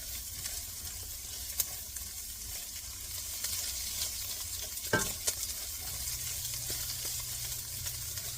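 Fideo noodles stirred and cooking in a hot pan, with a continuous frying sizzle under scraping and a few sharp clinks of a utensil against the pan. No one speaks.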